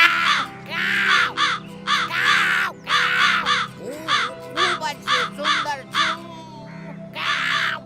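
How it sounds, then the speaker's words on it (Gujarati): A cartoon crow in a children's fable about a clever fox caws loudly and harshly, a rapid series of repeated raspy calls in bursts with short pauses, close and clear with no talk over it. "કાગડો પોતાના પગેથી રોટલીને દબાવીને બેસુરી અવાજમાં ગાયન ગાવા લાગ્યો"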